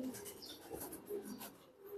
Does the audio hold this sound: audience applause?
no